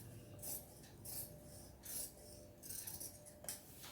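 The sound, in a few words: scissors cutting blouse fabric by hand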